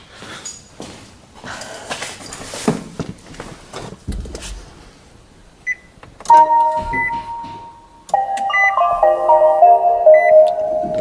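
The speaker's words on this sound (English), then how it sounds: "So we're going to go and turn the car on" A Nissan LEAF electric car being switched on: handling noises and clunks first, then a series of electronic beeps and tonal chimes rising from the dashboard at close range, continuing steadily through the end.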